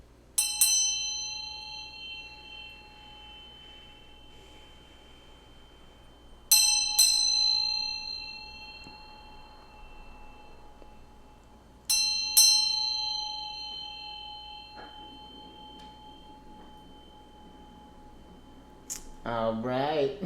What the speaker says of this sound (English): I'm just gonna ring this bell here.